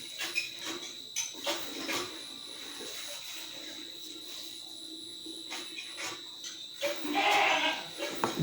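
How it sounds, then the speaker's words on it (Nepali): Goats bleat nearby in short bursts against a quiet indoor background, with a louder, closer bleat near the end. "तपाईँहरूलाई उता बाख्राको आवाज पनि सुने आउँदै होला होइन,"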